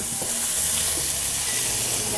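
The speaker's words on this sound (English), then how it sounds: "So we have some bacon there. We're going to let that cook for a minute." Bacon sizzles and hisses in a pan as it cooks, a steady broad crackle with faint pops, continuous and fairly close with no voices.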